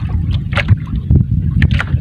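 Wind buffets the microphone in low, gusty rumbles under dark clouds, with occasional splashes and creaks from a small fishing boat on the water.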